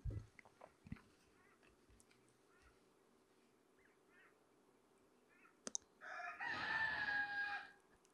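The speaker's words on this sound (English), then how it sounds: "The rooster's in the background." A rooster crows once in the background, a loud, drawn-out call near the end that rises over an otherwise quiet indoor room with a few faint clicks.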